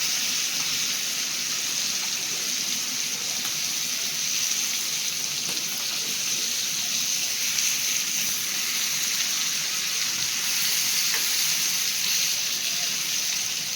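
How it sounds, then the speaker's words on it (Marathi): Black fish pieces frying in oil over a low gas flame for an Agri-Koli style sour curry, a steady bright sizzle holding evenly throughout with no talk and only faint shifts as the pieces are turned. "ते हळूहळू पलटी करायचे ते बारीक गॅसवर ना चांगले शिजून घ्यायचे मासे"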